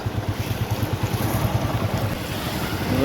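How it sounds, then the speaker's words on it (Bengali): Strong floodwater current rushing over a submerged road near a flooded petrol pump on the Ghatal to Chandrakona route, a continuous loud wash of churning water with steady wind buffeting the microphone and no voices. "দেখো স্রোত বইছে বিরাট স্রোত"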